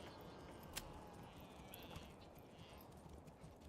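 Faint horse hooves clip-clop steadily on a hard surface, distant and soft, over a low background hiss.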